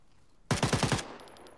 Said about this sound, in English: Ooh, taking fire now.